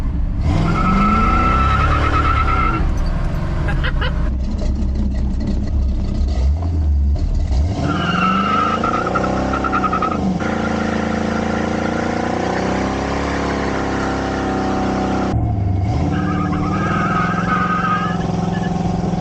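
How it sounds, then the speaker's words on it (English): A cammed Chevrolet C10 with a Flowmaster Super 44 exhaust does a one-wheel-peel burnout: a loud, rumbling, revving engine with sustained tire squeal, rising and falling in pitch through several bursts over about twenty seconds, with no talk. "One wheel peel, but still cool."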